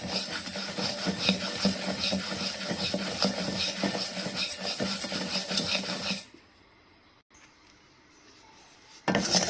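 Raw rice dry-roasted in a pan, stirred with a wooden spoon, makes a steady gritty rasping scrape for several seconds, then drops to near silence before a brief final scrape.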